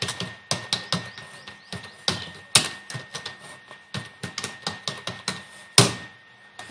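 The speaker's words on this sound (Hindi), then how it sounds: "नीचे मैं दोबारा टाइप करता हूँ एक बार" Typing on a computer keyboard during a computer lesson: irregular, close, crisp key clicks in quick bursts, with a few louder hard strikes and short pauses between runs.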